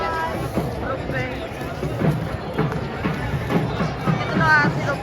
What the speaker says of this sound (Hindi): अभी तो इतनी ज्यादा भीड़ है